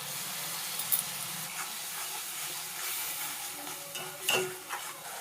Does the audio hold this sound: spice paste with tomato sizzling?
yes